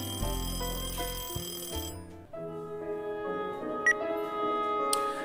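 A telephone rings with a shrill, repeating electronic tone in a tonal, musical pattern, loud and close with no voices.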